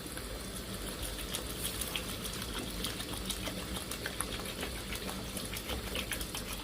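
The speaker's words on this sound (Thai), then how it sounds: "เติมน้ำนะครับ" Water pours steadily into a pot of chicken, a continuous hissing, splashing rush at low level that carries on without a break.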